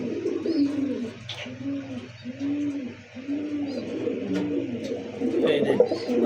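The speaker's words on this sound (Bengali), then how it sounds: "কবুতর ডাকে" Pigeons at a pigeon seller's place give a steady run of soft, rhythmic coos, repeated phrases close by, with faint background noise and occasional clicks.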